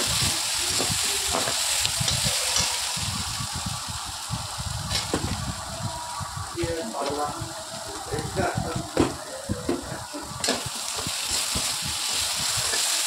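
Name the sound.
frying potatoes in a pan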